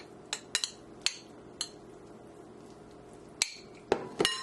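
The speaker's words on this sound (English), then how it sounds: "So now I'm just stirring this up." Warm eggs stirred in a bowl, sparse sharp clinks of utensil against the dish at irregular intervals over a quiet background, a quick cluster near the end.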